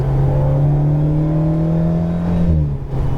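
An Alpine car on a racetrack pulls hard under acceleration, its engine note a loud, steady drone heard from inside the car that climbs slightly, then gives way to a short whoosh as the throttle lifts.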